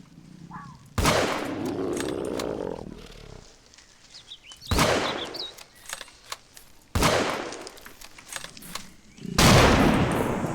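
Gunfire in a video game, loud bursts of shots coming in several separate volleys with quieter gaps between them, close and harsh.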